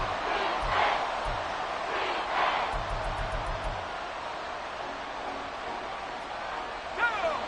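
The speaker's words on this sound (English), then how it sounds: "This crowd turning up the decibel level." A large stadium crowd roars and cheers during a football game between the Panthers and the Bucs late in the fourth quarter, a sustained distant wash of noise with rising surges and faint whistle-like cries over it.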